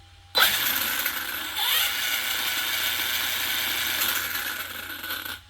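A Kraton 6S EXB RC car runs steadily with a high, continuous whine and ratcheting mechanical chatter, loud and close, with no one speaking.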